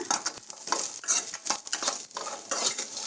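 Garlic and green chilies fry in oil in a pan, a busy crackling sizzle broken up by repeated scraping and clinking of a spoon stirring against the metal, close and steady throughout.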